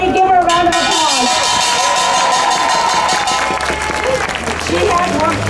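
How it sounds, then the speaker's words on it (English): Crowd applause and cheering at a Stop Asian Hate rally, loud and continuous for several seconds, with crowd noise and speech mixed in throughout. "Everybody give her a round of applause."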